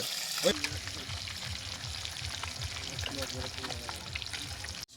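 Fish fry in oil in a pan at a pond's edge, making a soft, continuous crackling sizzle, fairly faint, with people talking over it throughout.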